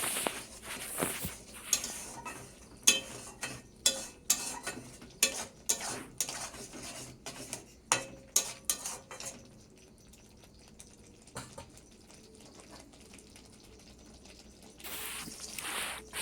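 Spinach masala with sugar is sautéed in a pan, rapid rhythmic scraping and knocking of a spatula against the pan for several seconds, then a quieter stretch before a final burst of stirring.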